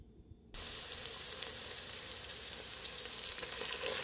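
Onions, bay leaves and rosemary hit hot oil and break into a loud, steady sizzle that starts abruptly after a quiet moment and keeps frying continuously, close up with no talk.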